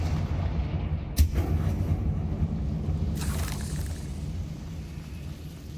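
A Confringo spell blast in Hogwarts Legacy: one sharp crack near the start, followed by a dull rumbling boom and a brief hissing burst midway, set against steady low ambient rumble.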